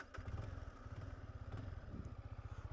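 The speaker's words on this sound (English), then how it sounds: "Let's start the bike" An anniversary-edition motorcycle engine catches and settles into a steady, rhythmic idle, close by, with a brief rev partway through.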